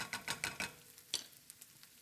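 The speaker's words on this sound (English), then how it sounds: "as I continue to cook and stir these onions" Onions cook in a pan while being stirred, soft scraping strokes in a quick run of four or five, then a few scattered lighter clicks over a faint low sizzle.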